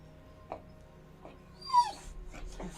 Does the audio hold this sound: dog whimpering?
yes